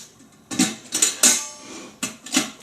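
A metal insert assembly for an 8-quart Aozita pressure cooker clinks and clatters in several short bursts as it is lowered and set inside the pot, close and fairly loud.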